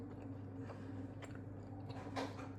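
Crunchy chewing of a chocolate chip cookie close to the mic, a few soft crisp bites over a steady low background hum.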